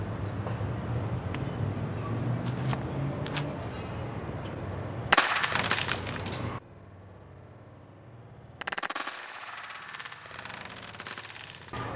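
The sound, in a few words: toy blaster firing a foam ball from a grenade shell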